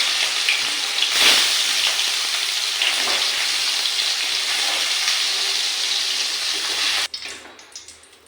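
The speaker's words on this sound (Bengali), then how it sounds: "এই সময়ে দিয়ে দিলাম পনিরগুলো আমি লাল করে ভেজে নেব।" Paneer pieces fry in hot mustard oil in a kadai, a loud, steady hiss and crackle that cuts off abruptly near the end, leaving a faint residual sizzle.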